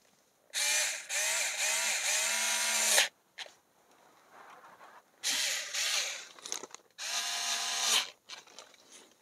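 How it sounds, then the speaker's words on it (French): Torque wrench tightening the brake disc retaining screw on a Citroën C3 hub, three loud bursts of rapid ratcheting clicks separated by brief pauses and softer handling noise, close up with no talk. "on donnera un petit coup de clé dynamométrique"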